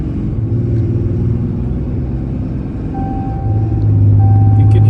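Engine of a Ram truck fitted with a Banks intake rumbles loudly and close, rising as it accelerates toward the end, with faint high beeps over the engine note.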